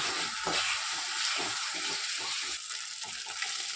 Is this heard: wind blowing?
no